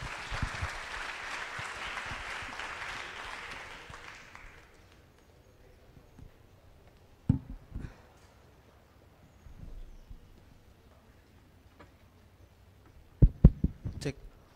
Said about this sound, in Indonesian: Boleh sekali lagi tepuk tangan buat Pak Parahita.